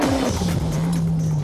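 A car skids under hard braking on Roadstone N7000 tires during a test, giving a loud, close squeal that falls in pitch and then holds steady under engine noise.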